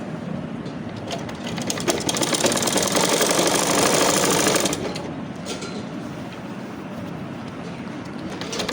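A sewing machine stitches elastic along the edge of a shalwar with a steady, close mechanical whir that speeds up and grows louder in the middle before settling back to a lighter hum.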